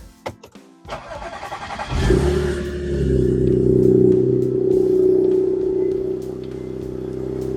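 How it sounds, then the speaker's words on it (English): An Audi S4 engine with a repaired supercharger bypass valve cranks with a few clicks and a short churn, catches, then settles into a steady, fairly loud idle hum. "Start the car, turn it on"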